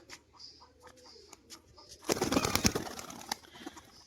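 Domestic pigeons, yellow-eyed hens, coo softly in the background, followed by a brief loud burst of wing-flapping near the middle.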